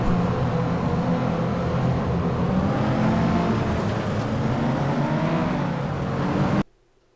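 Turbocharged race car engine in the FlatOut video game, a steady loud roar with rising and falling revs that holds for about six and a half seconds, then cuts off abruptly.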